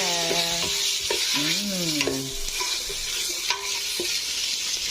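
Chicken sautéing in a hot pan for sopas, a steady sizzle with stirring scrapes and clinks, close and fairly loud, with a few tonal ringing sounds over it.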